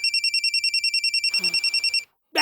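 A telephone rings with a rapid, regular electronic trill, clear and close, repeating steadily before stopping; a brief rustle follows the last ring.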